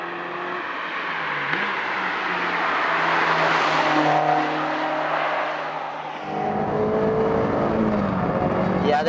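A Honda S2000 with a tuned exhaust manifold and catalytic converter drives on the road, giving a steady engine drone from inside the car whose pitch rises and falls as the revs change.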